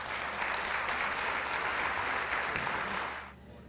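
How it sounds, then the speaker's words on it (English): An audience at a scholarship partners breakfast applauds loudly and steadily to welcome a speaker to the podium. The clapping is dense and sustained, then cuts off abruptly near the end. "Please join me in welcoming Kathleen King to the podium."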